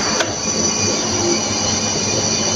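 Repaired electric motor with a new cooling fan running after power-on, a loud continuous whirring hum with high-pitched whine, steady and close, no voices.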